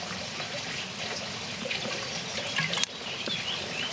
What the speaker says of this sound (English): Beautiful, clean drinking water, as in so many places on this mountain.